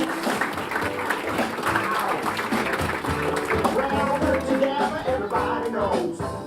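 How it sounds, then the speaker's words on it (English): An audience at a conference talk on digital transformation applauds as a speaker is welcomed, clapping blended with crowd chatter and background music, moderately loud throughout. "So please, round of applause for Naomi Lopez."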